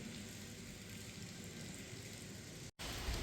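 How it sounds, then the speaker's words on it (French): Steady, soft rain hisses continuously at a distance on the Camino de Santiago between Hospital de Órbigo and Astorga, with a brief cut near the end before it resumes. "Sous la pluie, toujours et encore."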